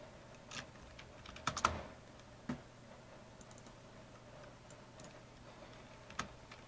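Quiet, sparse keystrokes on a computer keyboard while a folder name is entered, a handful of light clicks with a short quick burst near the start and a few isolated taps later, over a faint steady hum.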